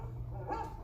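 Rover the dog gives a short, soft bark, a single brief woof at low volume in an animatronic show setting.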